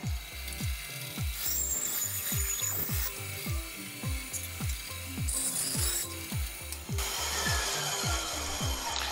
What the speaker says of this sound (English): Bandsaw cuts these pretty good.